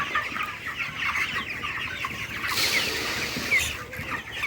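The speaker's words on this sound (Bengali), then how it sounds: "আমার ফার্মে আমার বড় ভাই কাজ করে দেখেন মুরগির খাবার দিতেছে" Chickens on a poultry farm cluck and chatter continuously during feeding, many birds overlapping in a dense, close flock with no pauses.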